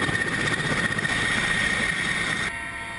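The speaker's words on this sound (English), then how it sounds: "The chopper's fired up." A helicopter engine runs with a loud, steady whine and throbbing drone, close and continuous, dropping slightly in level near the end, with no talk.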